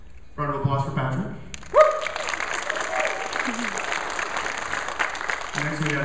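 A burst of audience clapping and cheering at a guitar recital, fairly loud, with a voice talking at the start and end.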